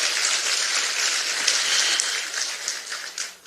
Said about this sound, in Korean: 우리 배현진 시당위원장 수고 많이 했다고 한번 박수 한번 쳐주시죠